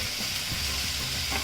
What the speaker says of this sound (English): So as my onions and garlic get cooked, you have to keep frying it so that it doesn't get burnt or anything.